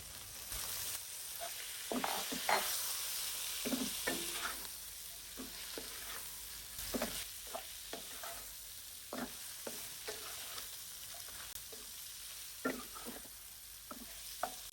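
Okra being stir-fried with onions and salt in a pan, a steady close sizzle broken by repeated scraping stirs of the spatula, with no one talking.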